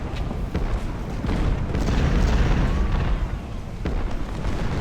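Artillery fire in the Civil War strategy game Ultimate General: Civil War, heavy booming blasts rolling one after another over a continuous battle din, loud and dense with no talk.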